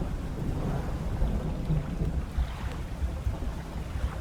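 A stormy sea in the video game Dredge, a Lovecraftian fishing game, gives a dense, constant roar of wind and rain with low rumbling underneath, loud and unbroken the whole time, with no voices.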